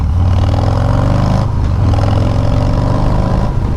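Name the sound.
Harley-Davidson Sport Glide motorcycle engine with Bassani exhaust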